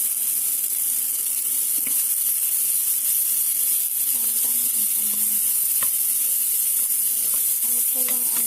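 Sliced ginger sizzling in a hot frying pan in a home kitchen, a steady bright hiss with faint stirring clicks and scrapes throughout.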